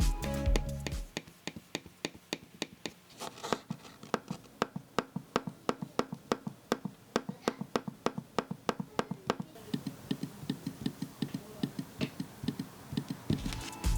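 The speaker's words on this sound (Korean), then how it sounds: "트랙패드의 클릭음도 들려드리도록 하겠습니다." A Logitech Combo Touch keyboard case for iPad Pro gives a long, steady run of crisp trackpad clicks, close up and fairly quiet, evenly spaced with no talking.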